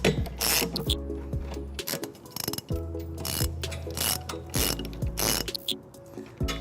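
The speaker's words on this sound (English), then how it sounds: "I'm tightening up the driver's side here that I am using a 5-inch extension on my ratchet here" A ratchet on a 5-inch extension tightens trailer hitch bolts under a 2015-2021 Kia Sedona, clicking in rapid rhythmic runs with brief pauses and a metallic ring, close and clear with no talking.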